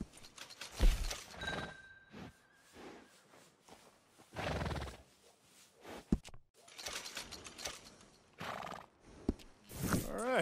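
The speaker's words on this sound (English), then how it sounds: "And a fine new horse." A horse in the video game Red Dead Redemption 2 whinnies in several loud bursts between quieter stretches, with hooves clopping and some light mechanical clicks.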